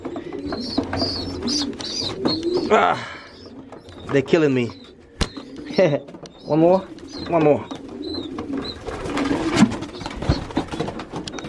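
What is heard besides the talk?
birds cooing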